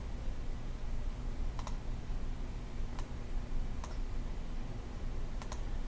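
Typing on a computer keyboard, with a handful of sharp, separate keystrokes spaced irregularly over a steady background hum.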